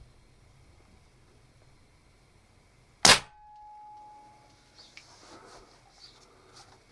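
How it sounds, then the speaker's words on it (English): A single sharp shot from a Webley VMX gas ram air rifle, a loud crack in a quiet room followed by a brief faint ring and a few small clicks afterward. "Shot number one. It's got a lovely smooth cocking action, this gun has, being a gas ram."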